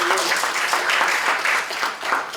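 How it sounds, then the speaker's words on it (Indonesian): An audience applauds during a church sermon, dense clapping from many hands sustained throughout at a fairly loud level with no pause. "Beri tepuk tangan."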